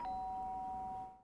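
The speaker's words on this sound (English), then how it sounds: "The sharp sound of the doorbell pierced my sleepy haze and pulled me back into the real world." An electronic doorbell chime in the Danganronpa: Trigger Happy Havoc video game, a single steady, bright tone sustained for about a second before fading out, fairly quiet and alone.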